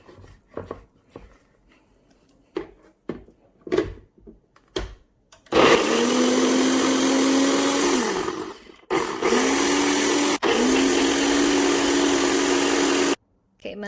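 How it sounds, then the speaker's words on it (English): A blender whirs through halved strawberry chunks in its blender cup, a steady loud motor drone that pauses briefly mid-run and restarts before cutting off, after a few clicks and taps of setup. "And blend it up."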